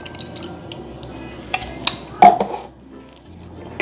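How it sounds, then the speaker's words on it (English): A spoon scrapes sweet potato pie filling into a bowl, several short clinking and scraping strokes against the dish in a quiet kitchen. "Gonna scrape it on our bowl."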